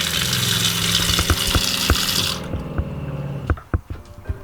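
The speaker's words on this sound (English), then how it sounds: "all powered by the water pump, which if I hit this button, you'll hear it, powers on" A water pump in a converted bus hums and hisses loudly for a couple of seconds as it pressurizes the plumbing, then cuts off, leaving scattered clicks and knocks of plumbing.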